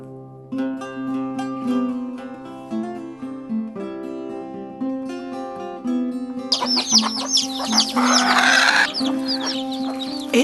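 Hens cluck softly in a farmyard, with a louder burst of busy clucking and squawking near the end.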